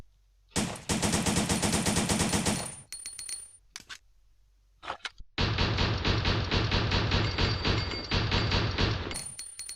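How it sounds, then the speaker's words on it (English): Handgun B in Resident Evil Survivor fires in two long, very rapid strings of sharp shots, the second string longer, loud and alone, with brief separate pops in the gap between them. "let's test the Handgun B out"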